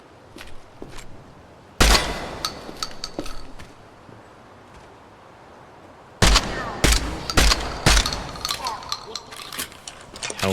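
A shotgun blasting in the video game Project Silverfish, sharp loud reports in two clusters with several shots each, followed by metallic clinks, while people talk throughout.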